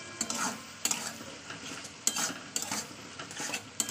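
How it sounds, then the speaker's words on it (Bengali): Spices with salt and turmeric are stir-fried in a pan, with rhythmic spatula scrapes and knocks against the metal roughly every half second over a soft sizzle, close and fairly loud. "তো এটাকে আমি আবার কষিয়ে নেবো, যাতে হলুদের গন্ধটা না থাকে।"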